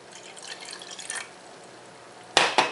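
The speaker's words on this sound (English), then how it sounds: "I'm going to add 1 cup of water" A cup of water is poured into a cup of honey to start a syrup for baklava: a soft trickling pour, then a brief louder splash near the end, with no one talking.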